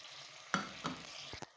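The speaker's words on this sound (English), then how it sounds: "They are frying, and I'm gonna put my tomatoes." Onions and tomatoes frying in a pan: a soft steady sizzle with a couple of sharp scrapes or stirring knocks and a brief clatter near the end, close and fairly quiet, no voices.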